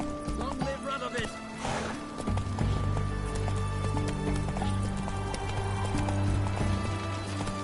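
Roach, the horse in The Witcher video game, gallops along with a rapid, rhythmic clip-clop of hooves over a steady low background, and a voice talks over the start.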